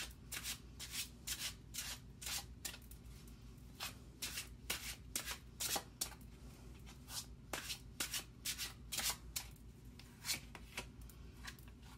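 Tarot cards are shuffled by hand in a quiet room, a string of soft, rhythmic riffling and sliding bursts repeating at close range.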